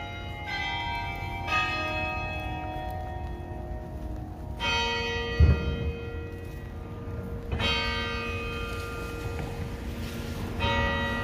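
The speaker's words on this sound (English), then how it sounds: "I'll wait for the church bells to end before I start narrating here" Bells of St. John Cathedral in Lafayette, Louisiana ring out in repeated, overlapping peals with long sustained tones, fairly loud and close, with no talking.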